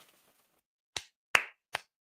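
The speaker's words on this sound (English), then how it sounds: "Clap it up for him" Three sharp, separate hand claps ring out close and clear after a quiet moment, evenly spaced.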